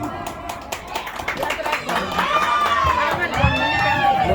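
An audience at a bonus-payout event claps and cheers to welcome two hosts, a dense crowd roar with shouting voices rising over the clapping toward the end.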